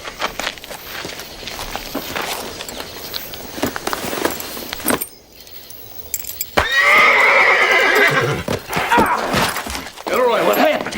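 A horse whinnies loudly and close, with hoof clatter and movement around it, after a stretch of muffled activity and a brief quiet gap.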